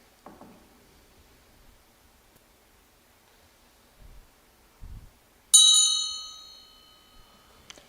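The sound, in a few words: bell ringing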